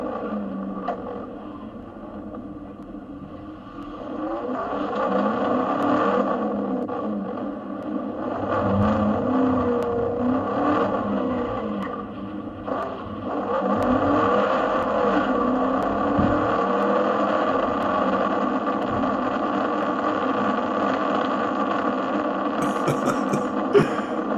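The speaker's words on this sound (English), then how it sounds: "Camaro that runs from the police and gets away" A Chevrolet Camaro fleeing from police, its engine droning and revving steadily at close range with continuous roar that swells and holds, no voices over it.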